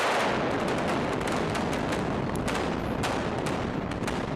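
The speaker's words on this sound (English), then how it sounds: "Using the power of an explosion saves hours of time that would otherwise be spent trying to jackhammer through solid rock." A rock-blasting explosion tearing through a mountain to make a tunnel, a loud continuous roar of debris and rumble with scattered sharp cracks, no voices.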